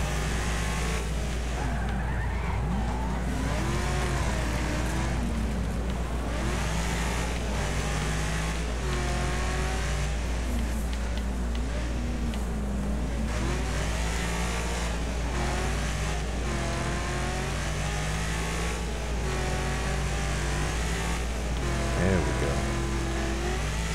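Race car engines in Wreckfest at Northland Raceway, loud continuous revving with shifting pitch, tire squeal and skidding throughout, from cars racing close by.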